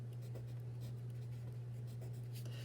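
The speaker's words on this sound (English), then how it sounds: "I'm going to rewrite that because I can write it nicer." Numbers being handwritten during a fractions lesson make soft scratchy strokes in short bursts over a constant low electrical hum.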